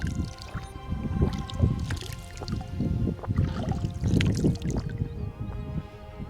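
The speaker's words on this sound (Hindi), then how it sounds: "तो अभी ये जो पानी आ रहा है ना, ये पहाड़ों से आ रहा है" Snowmelt mountain stream on a Kashmir trek from Margan to Choharnag, gurgling and splashing close by in a continuous rushing flow with a low churning rumble and no voices.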